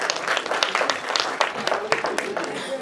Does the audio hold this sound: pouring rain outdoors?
no